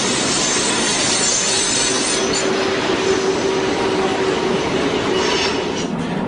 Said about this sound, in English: SP freights on the Cascade Line are mostly in the hands of diesels built by the Electromotive Division of General Motors, or EMD.